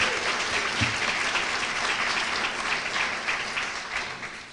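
An awards luncheon audience applauds as an honoree is called to stand, a steady dense wash of clapping that gradually fades toward the end.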